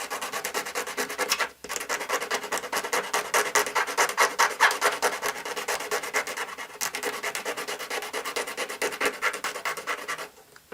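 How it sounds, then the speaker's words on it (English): Steady, rapid rasping of a file rounding the end of a small toy lightsaber, a continuous scraping rhythm close up with one brief pause early on. "After a few minutes of filing, you can see I've ended up with a fairly good little rounded end there"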